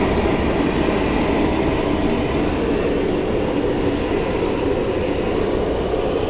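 A gas burner on a high-pressure setup roaring at full heat under a cast iron pan, a loud, steady broadband rush that holds unchanged throughout, no talking.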